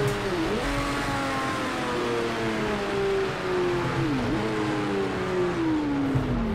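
Race car engine in Project CARS 2 at Le Mans in a thunderstorm, droning steadily at high revs with rising and dipping pitch sweeps as it shifts and lifts, loud and continuous against rain-like hiss.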